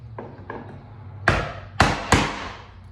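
A chisel is struck to pry fasteners out of an old wooden window frame: a few soft taps, then three sharp, loud close blows in an uneven rhythm, with no talking.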